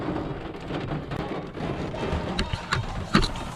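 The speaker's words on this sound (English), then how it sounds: "As you can see, it is raining." Rain falls steadily downtown as a continuous wash of hiss and patter, recorded close up during a run, with a few sharper taps and splashes near the end.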